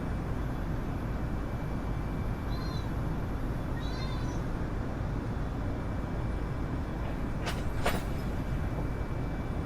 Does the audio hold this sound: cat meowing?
yes